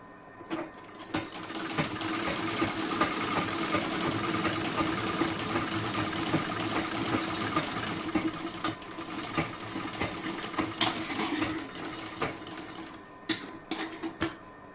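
A sewing machine stitches tucks on a plain blouse in a long continuous whirring run, then stops and restarts in short bursts near the end, close and alone without talk.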